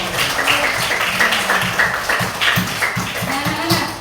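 A class of children clapping their hands together in a rhythmic burst of quick claps, close and lively, mixed with bright young voices calling out in the room.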